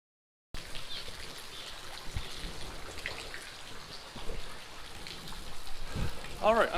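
Steady rain falls at a clear-water creek during a fishing outing, a constant close hiss of drops and trickling water, with a brief voice near the end.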